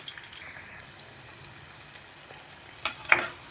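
Cabbage bonda fry in oil over a low flame, a soft, even sizzle with a couple of faint pops near the end, no voices.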